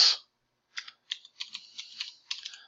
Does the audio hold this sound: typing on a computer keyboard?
yes